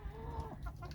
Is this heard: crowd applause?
no